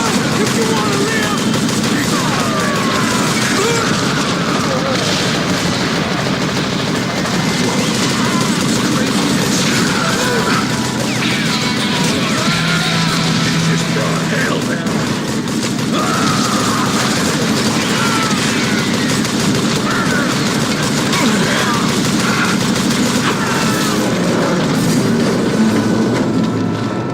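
Gunfire in the Western shooter game Call of Juarez Gunslinger, a dense ongoing volley of shots with rumbling action noise filling the whole stretch at steady loud level, with a voice heard faintly at times.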